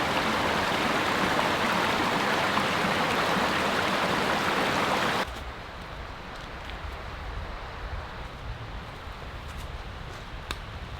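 A small creek on a forest trail crossing rushes loudly and steadily, then drops abruptly to a softer, more distant trickle halfway through.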